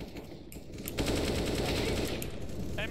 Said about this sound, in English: Yeah, I know he's shooting at me.